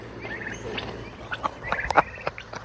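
A turkey at a backyard homestead fence gives a few close, sharp gobbling and clucking calls that grow louder and more frequent toward the end, over low background noise.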